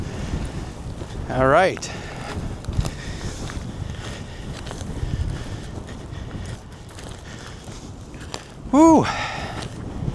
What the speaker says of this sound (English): It's tough walking against the wind in this soft soil.